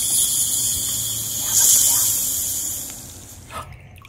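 A dinosaur egg toy fizzing in water, a steady high, airy hiss that swells briefly and then fades, with a small splash near the end.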